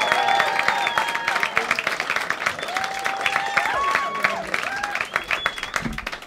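Comedy club audience welcoming a comedian to the stage with loud, rapid clapping and cheering. Dense applause carries throughout with whoops over it, while a voice talks and calls out above the crowd.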